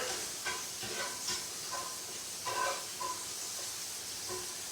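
Shrimp sizzling in a hot pan as they are turned over, a constant soft hiss with several brief bursts of crackle and scraping as pieces are flipped.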